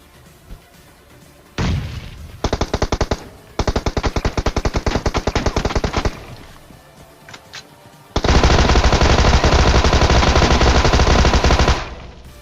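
A Tommy gun fires in PUBG on the Erangel map, with several bursts of rapid automatic fire, a few short ones and then one long sustained burst, loud and close with no talk.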